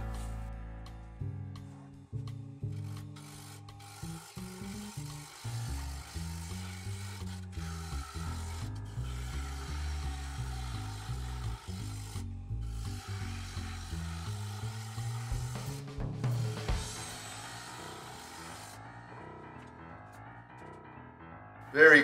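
A wooden piece is faced off on a lathe, the tool rubbing and scraping against the spinning wood in a steady, moderately loud whir with pitch shifts as the cut varies.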